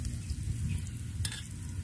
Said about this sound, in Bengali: এখন আমি মশলাটা দিয়ে দেবো।